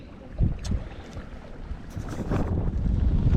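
Wind gusting across a lake at Greenbo Lake in December, buffeting the microphone from a fishing kayak, with broadband rushing noise and low rumbling surges that swell and build toward the end.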